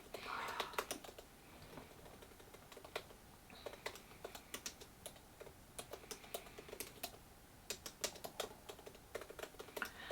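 Quick, light clicks of typing on a computer keyboard come in irregular bursts and short runs, close and fairly quiet, with no talk over them.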